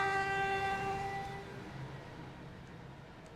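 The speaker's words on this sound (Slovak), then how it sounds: "Zatrúbime vláčiku vedľa nás." A train horn in the Roblox railway game Stepford County Railway blows one long, loud, steady multi-tone blast that fades out over a couple of seconds, leaving low rumbling train noise.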